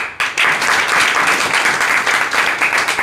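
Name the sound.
audience applause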